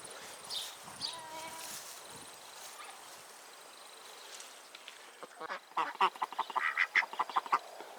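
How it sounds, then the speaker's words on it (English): Ducks in a grown-up garden patch, quacking in a burst of short, fairly close calls toward the end after a quieter stretch of outdoor ambience. "See, the ducks are okay in the patch once things are grown."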